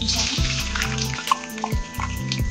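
Chilies fry in hot oil for Newari buff choila. A soft, busy sizzle runs beneath a clutter of clinks and rhythmic low knocking from the kitchen.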